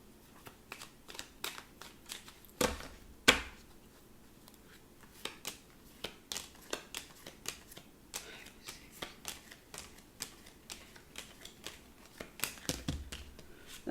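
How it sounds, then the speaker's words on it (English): Tarot cards are shuffled close by in quiet, irregular bursts of crisp riffles and soft slaps, with a few louder snaps partway through and no talk over them. "No, they want me to shuffle again."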